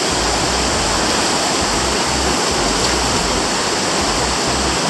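River rapids and a waterfall in the Amazon rainforest of Suriname pour out a loud, dense, unbroken roar of rushing water close at hand, with no voices over it.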